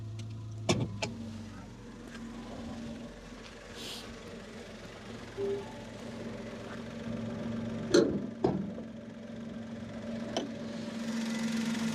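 A three-cylinder car engine idles with a low, uneven hum and slight shudder from its vibration, with occasional clicks and knocks from handling nearby.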